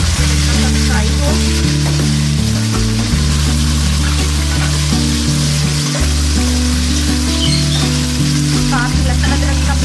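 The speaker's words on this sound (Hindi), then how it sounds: "सबसे पहले हम ऑयल डाल के चिकन डालेंगे ऑयल में।" Chicken frying in hot oil in a pan, a loud steady sizzle with crackling and occasional stirring clatter, close up and continuous without speech.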